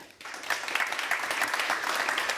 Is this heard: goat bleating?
no